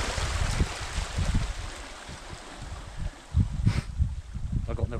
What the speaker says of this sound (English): Bit of a brisk southerly wind at the moment, which is on me back